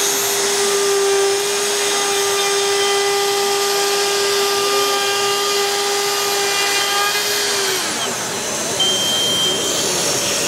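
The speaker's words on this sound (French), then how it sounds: "et on va venir fraiser." A Mafell power tool milling with its dust extractor attached, a loud steady whine and rush at a trade show, holding constant for about eight seconds before the pitch drops as the motor changes.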